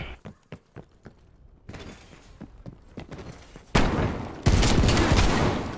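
Pistol shots from a one-on-one gun game video game crack in quick, uneven bursts, followed by a louder, sustained blast of broadband gunfire noise near the end, with no talking.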